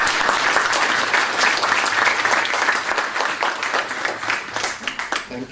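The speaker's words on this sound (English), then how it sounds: "they deserve a round of applause." An audience claps enthusiastically, a dense wash of applause that holds steady and then gradually tapers off.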